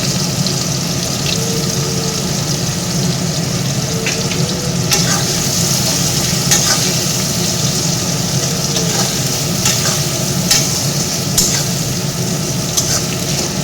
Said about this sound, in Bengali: পেঁয়াজগুলি দিয়ে দিচ্ছি কুচি কুচি করে কেটে রেখেছি